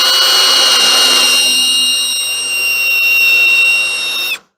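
A drill bores a pilot hole through metal nearly 3/8 inch thick, giving a steady high whine with bright ringing tones that holds for several seconds and then stops abruptly.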